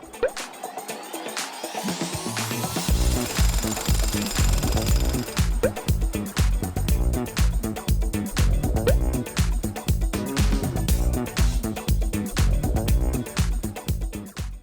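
Steel foundation pile for a farm hut being driven into sloped ground by machine, a loud, steady rapid pounding that runs continuously after a brief start, with mechanical clatter throughout and no talk.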